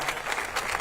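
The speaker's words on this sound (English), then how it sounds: "Give Ty one more round of applause" An audience at the Rhode Island governor's Hope Scholarship launch applauds in a short, fairly soft burst of clapping with no talk over it.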